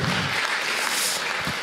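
A small round of applause from the audience at a panel discussion on sharing data for a healthier city, a brief, steady burst of clapping heard close and fairly loud.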